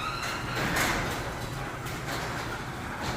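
A motorized door rumbles and slides open steadily for a few seconds, a continuous mechanical whir with a faint rattle.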